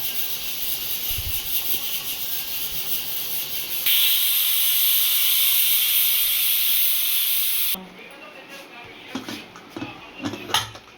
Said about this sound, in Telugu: కుక్కర్ మూత ఓపెన్ చేస్తున్నామండి